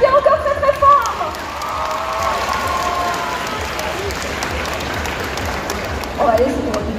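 Loud, sustained applause from a crowd at a cosplay contest, broad and steady clapping throughout with a voice over a loudspeaker heard at the start and again briefly near the end.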